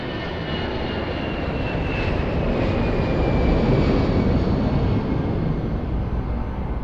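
An airplane takes off at Lisbon Airport with a loud, steady jet roar that swells slightly toward the middle and stays constant throughout, heard from a distance with no voices.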